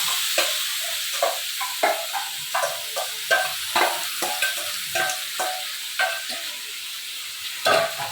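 Chicken pieces hit a pan of browned onions and green chilies and fry with a steady sizzle, broken by frequent scraping, clacking stirs of a spatula at close range. No one speaks.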